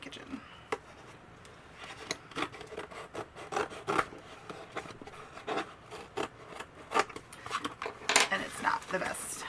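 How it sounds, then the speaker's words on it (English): Small eyebrow scissors cutting open a cardboard box, a series of close, quiet snips, scrapes and rustles at an irregular pace. "I'm using my little eyebrow scissors and like the ones that I use to trim my lashes to open my box"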